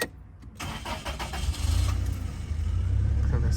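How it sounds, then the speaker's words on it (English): A 1997 Toyota HiAce with a 2.4 liter engine starting: a brief cranking whir, then the engine catches and settles into a steady low idle rumble, close and moderately loud, no talk. "So that's how engine started."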